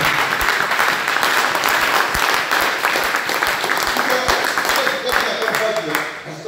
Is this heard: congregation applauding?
yes